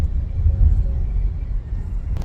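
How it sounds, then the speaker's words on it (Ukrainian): A Zeekr 001 electric car cruises steadily on cruise control, heard from inside as a low, even road rumble with soft tire noise and no talk. "Їде він собі на круїзі."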